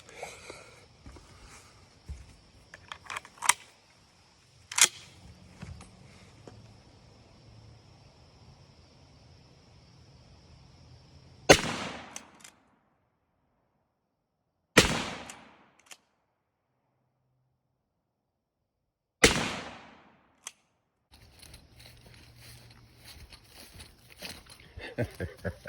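Remington 7600 rifle fired while being sighted in, three sharp, loud reports spaced several seconds apart, with quieter clicks and handling noises at the start and end.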